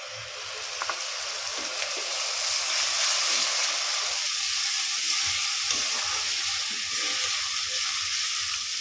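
A paste of cashew, melon seed, poppy seed, raisin and green chilli sizzles steadily in a pan over low heat, a continuous close hiss with faint stirring scrapes underneath.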